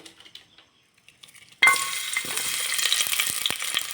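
Green chillies, garlic, ginger, cinnamon, cloves and pepper hit hot oil with a sudden loud sizzle after a near-silent start, crackling and spitting steadily in the pan while veg donne biryani is cooked.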